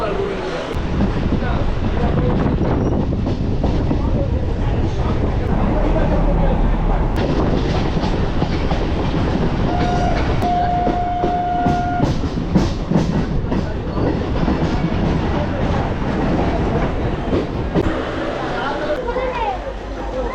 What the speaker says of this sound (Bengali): এই ট্রেনই যাবে কৃষ্ণনগর